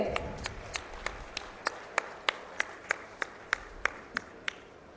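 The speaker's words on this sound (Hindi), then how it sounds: "आप सभी की जोरदार तालियां एक बार फिर से" Steady, rhythmic clapping at a national highway inauguration ceremony in Haryana, a regular series of crisp claps of medium loudness that build slightly and then ease off, with no voices over them.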